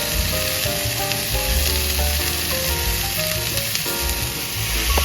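Vegetables and yakisoba noodles stir-fry in a pan with a steady, close sizzle and occasional tossing, while a faint musical tone runs underneath.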